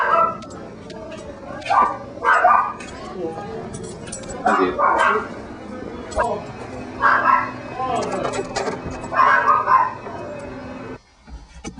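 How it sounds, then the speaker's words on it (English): Small yappy dogs let out repeated bursts of high barks and yips nearby while people talk and keys jingle. "you heard those little yappy dogs"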